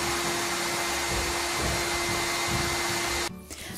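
A vacuum cleaner runs in a kitchen with a loud, steady whine and roar that holds constant, then abruptly cuts off near the end.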